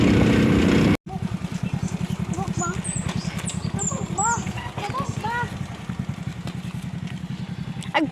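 A motorcycle engine putters steadily and close by in an even, rapid pulse as it passes, with faint chirping sounds above it.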